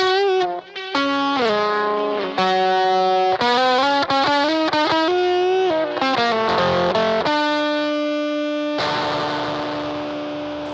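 Electric guitar played through Rat fuzz and space echo pedals, a distorted melodic line of sustained notes with repeating echoes, ending on a long held chord that slowly fades.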